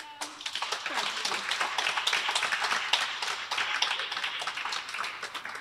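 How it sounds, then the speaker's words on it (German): Audience applauding steadily inside the Friedenstunnel, a tunnel used for Sunday peace concerts by volunteer musicians; dense, continuous clapping throughout, fairly close and sustained with a slightly reverberant character. "Auch das nochmal ein dicker Applaus für Melanie Wilde"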